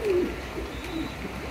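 Fancy pigeons, a running breeding pair of Mundian or Lahori show kings, coo softly in a low murmuring call, with a brief coo near the start and another faint one midway over steady background noise.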